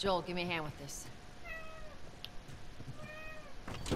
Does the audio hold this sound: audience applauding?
no